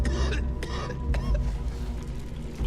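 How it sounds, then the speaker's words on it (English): A man coughs and clears his throat in the video game I Am Alive, a few rough bursts over a low, rumbling game ambience. "To try to find this guy down here who's coughing"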